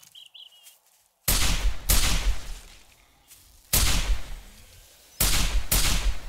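Rifle shots in 7 Days to Die: four loud, close gunshots spaced unevenly, each a sharp crack with a short echoing tail, following a quiet stretch with faint birdsong.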